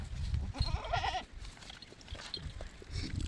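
A goat bleats once, a wavering call close by at a farm, with livestock shuffling and handling noise around it and no talk.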